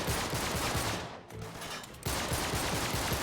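Shotgun and pistol fire in Uncharted 3, dense continuous bursts of shots overlapping with no gaps, except for one brief lull halfway through before the firing resumes at full loudness.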